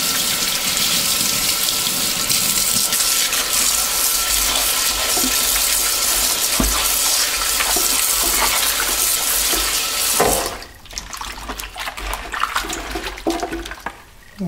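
Cold tap water runs hard into a sink while conch is rinsed, a loud steady gush for about ten seconds. It then cuts off, leaving quieter dripping and handling noises.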